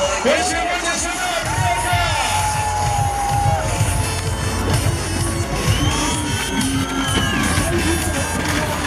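A festival crowd at an outdoor winter event with unusual sleds in Mamadysh cheers and whoops continuously, with children shouting and talk mixed into the steady, fairly loud hubbub.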